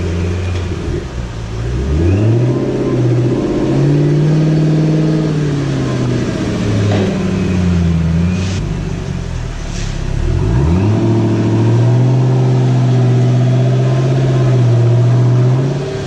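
A Ford GT's engine idles and revs in a steady, close drone as the car is driven slowly onto a lift, with the pitch rising and falling through gentle throttle blips and no talking.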